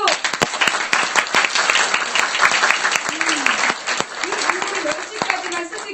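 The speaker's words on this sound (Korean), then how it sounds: "환영의 박수" An audience claps in welcome for a pastor arriving at a live talk show event in New York, a loud, dense burst of hands with a voice talking over it and a few sharp claps standing out.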